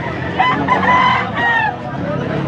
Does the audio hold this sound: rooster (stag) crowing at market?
yes